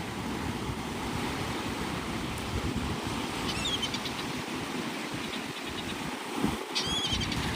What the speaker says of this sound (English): This is Navarre Beach, Florida.